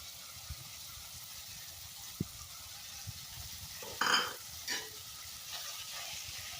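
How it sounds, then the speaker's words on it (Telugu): Grated bottle gourd goes into a hot pan for a curry. A quiet steady sizzle runs throughout, broken by a few soft stirring scrapes and clinks near the middle. "తర్వాత ఈ సొరకాయని కూడా వేసేస్తున్నాను."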